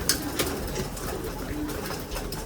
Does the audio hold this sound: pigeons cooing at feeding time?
yes